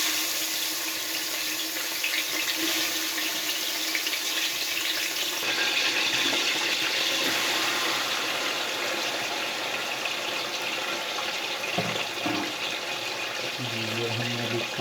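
About 7 kg of chicken goes into a large batch of hot oil for chicken kadai, giving a steady, dense sizzle and hiss that stays loud throughout, with a few faint clanks near the end.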